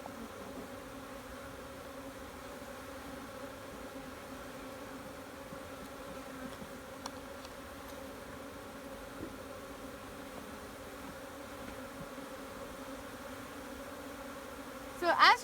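Honey bees hum around an open hive as a frame is lifted out, a faint, steady drone that stays even throughout and ends with a brief clatter at the close.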